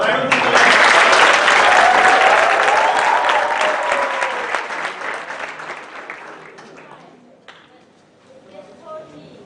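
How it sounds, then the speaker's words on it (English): Live audience applause, loud and dense from the start, with a voice talking over it; the clapping thins and fades over the last few seconds. "So can we have some applause?"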